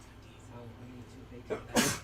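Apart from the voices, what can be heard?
sneeze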